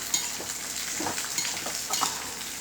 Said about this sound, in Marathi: व्यवस्थित हे तेलावर छान त्या कांद्याबरोबर हलवून घ्यायचे आपल्याला.